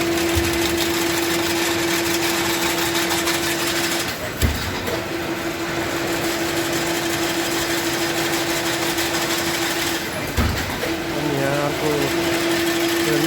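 An industrial wire mesh weaving machine runs with a continuous mechanical whir and a steady hum, a couple of brief knocks breaking the drone, while a voice talks over it.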